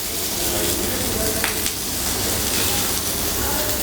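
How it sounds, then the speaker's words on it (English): Pork belly, mushrooms and onion sizzle on a restaurant grill, a steady close hiss and crackle running evenly throughout with a couple of faint clinks. "We are putting it on the grill, and yeah, we'll put some more mushrooms."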